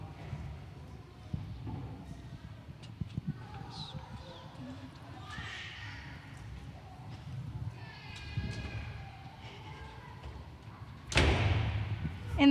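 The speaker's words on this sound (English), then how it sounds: "she heard the door fly open" A door bursts open with a sudden loud bang near the end of a school Christmas concert performance of A Christmas Carol, following a stretch of quiet hall murmur and shuffling.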